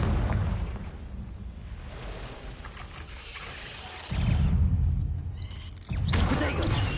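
The Confringo spell bursts in Hogwarts Legacy, a dense roaring blast with rumbling booms swelling in two surges over a continuous fiery noise bed.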